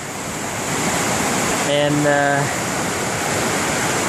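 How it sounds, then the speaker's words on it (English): Rugged mountain creek below Mount Adams rushes as a steady broadband roar, close and loud throughout, with a short stretch of talk over it near the middle. "Just had a rugged creek crossing here below Mount Adams"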